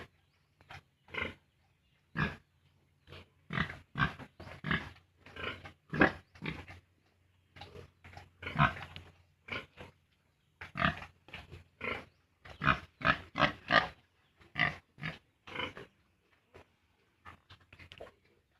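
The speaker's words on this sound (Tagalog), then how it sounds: "Sa ngayon mga bossing ay ang ating inahing baboy" A pregnant sow on a farm grunts in short, irregular bursts, close and fairly quiet, with brief pauses between the snorts and no talking.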